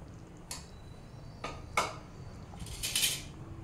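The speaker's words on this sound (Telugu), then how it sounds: "ఎగ్స్ వేసి బాగా కలపాలి." Spoon scraping and knocking against a pan while fried eggs are stirred into a boiling butter egg masala curry, a few sharp metallic taps and scrapes, close and fairly quiet, with no talking.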